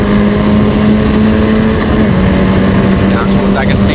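Historic Formula Ford race cars lapping at Snetterton, a steady high engine drone holding a sustained pitch near then shifting slightly, under continuous race commentary.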